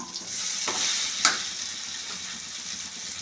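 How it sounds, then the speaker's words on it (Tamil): Onion and tomato sautéing in a pan, a continuous close sizzle broken by a couple of stirring scrapes and one sharp clink of the spoon, with no voices. "ஈருள்ளி டொமேட்டோ நல்லா வதங்கிருச்சு"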